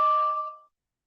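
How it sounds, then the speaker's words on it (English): A single electronic notification chime rings out, a clear two-tone ding that fades away within about half a second, alone and close. "I got another notification."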